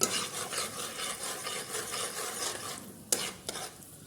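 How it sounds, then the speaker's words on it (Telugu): Tempering spices crackle and sizzle in hot oil in a pan, a steady close frying hiss with a sharp pop near the end, no talking. "పోపు దినుసులు కాలుతున్నాయి కదా"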